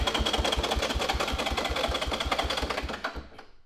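A Honda three-wheeler engine cranks over on its electric starter with a rapid, even mechanical chugging that runs steadily for about three seconds and then cuts off abruptly.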